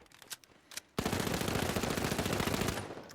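Rapid automatic gunfire from a weapon in the shooter game The Finals, a sustained loud burst of rattling shots lasting over two seconds after a couple of brief earlier pops, heard while the player strafes.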